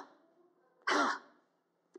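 One forceful, cough-like burst of breath is pushed out during an abdominal breathing exercise with two fingers pressed at the navel. It is a short, loud rush of air, with quiet breathing before it and a faint click after.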